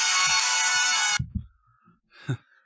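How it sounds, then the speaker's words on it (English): A loud electronic ringtone plays for about a second, then cuts off abruptly, followed by faint handling noises and a brief sigh-like breath. "It really is my ringtone."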